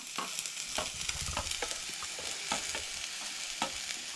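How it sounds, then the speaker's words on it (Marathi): Chopped onion and mixed vegetables sizzle steadily in a pan for vegetable cutlets, with repeated scraping stir strokes every half second or so, close and clear, no talking. "जे आमचे व्हेजिटेबल्स आहा न्हय ते तळसळून घेऊया"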